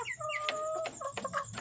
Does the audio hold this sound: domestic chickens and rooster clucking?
yes